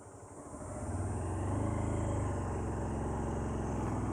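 A vehicle engine pulling in first gear, a steady throbbing drone that swells in loudness over the first second and a half, then holds close and even with no voices.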